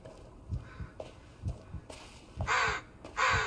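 Several crows caw in loud, harsh bursts in the Blair Witch video game, with the last two calls the loudest. Soft footsteps patter underneath, and there is no talking.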